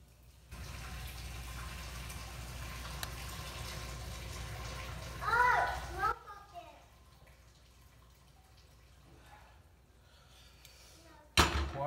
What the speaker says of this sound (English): pour the water out